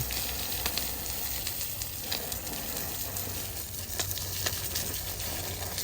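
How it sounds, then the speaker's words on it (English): Water rinsing a MrCool mini split ceiling cassette filter outdoors, a steady broadband hissing spray running continuously at close range with small fluctuations, no talk. "So let's hop outside, we'll rinse this off"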